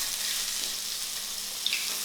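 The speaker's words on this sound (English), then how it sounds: "so little bit of oil, and then we're going to go in with your onions first" Onions sizzling in a little oil in a smoking-hot wok, a steady bright frying hiss running throughout with no talking over it.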